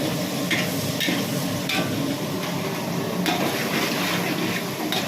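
Whole cloves crackle and sizzle in hot ghee for Kerala-style ghee rice, a steady close frying hiss with light scraping and stirring knocks running throughout.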